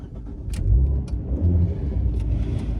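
A 2015 Abarth 500 with its Abarth engine pulling away on a test drive, mid-pitched engine revving and rising through short accelerations from inside the car, with a few clicks.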